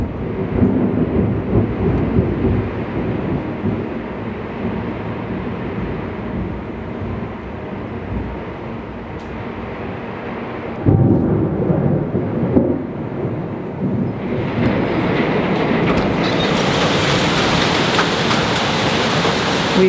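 Hail drumming on the roof of a shipping container home, a dense continuous roar that swells louder partway through and stays heavy to the end, with no talking.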